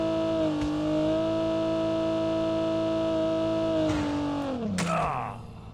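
Video-game car engine from Call of Duty Mobile whines steadily at a held pitch, then dips and rumbles as the vehicle slows near the end, with a brief burst of effects before fading.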